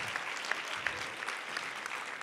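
Audience applause at a body language workshop, fairly faint and steady, with scattered individual claps standing out over the patter.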